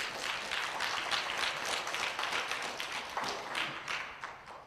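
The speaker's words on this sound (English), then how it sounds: "Let's give him a round of applause." Audience at a hip hop film event gives a round of applause, dense continuous clapping at moderate level with no talking.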